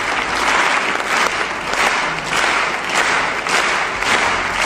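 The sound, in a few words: audience applause becoming synchronized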